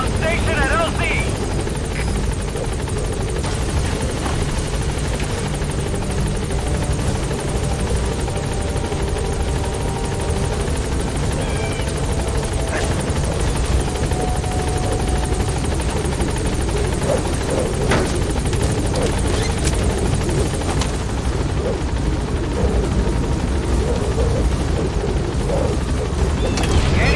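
Support helicopter arriving at a landing zone in Metal Gear Solid V, a loud, continuous rotor thump and turbine whine that stays close throughout, with a radio voice speaking over it.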